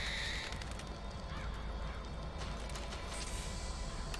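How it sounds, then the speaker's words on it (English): Birds squawking and cawing in the video game Bioshock Infinite, harsh cries over dense game noise and music in a busy, steady soundscape. "Birds!"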